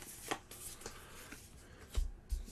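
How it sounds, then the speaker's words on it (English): Quiet riffling and flicking of cards from the Slay the Spire board game being shuffled, with a few soft taps, close and brief. "I'm going to give this a quick shuffle"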